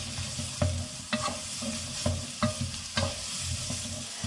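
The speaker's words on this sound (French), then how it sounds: "On va bien faire revenir tout ça" Chopped vegetables with bell pepper sauté over fairly high heat, keeping up a steady sizzle while a spatula scrapes and stirs them in regular strokes about every half second.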